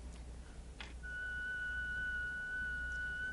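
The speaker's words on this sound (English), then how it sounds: "why don't you whistle a nice steady tone here?" A single person whistles one steady, clear tone that holds unbroken for a couple of seconds after a short breathy start, faint against a quiet room.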